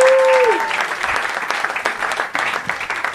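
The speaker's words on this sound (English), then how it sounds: "please, big round of applause for Alexis Guerreros" A comedy-club crowd claps and whoops for a comedian coming on stage, with a brief rising whistle or tone at the start before lively, uneven applause continues throughout.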